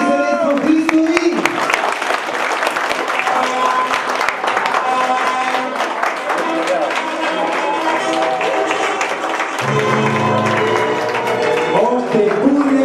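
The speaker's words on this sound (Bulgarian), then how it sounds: "Още бурни аплодисменти за нашите прекрасни младоженци." Sustained applause from wedding guests for the newlyweds, steady clapping throughout with music playing along and a host speaking over the crowd.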